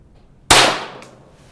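A single sharp shot from a .22 gun firing cold ammunition, a loud close crack with a short fading ring and a faint click just after.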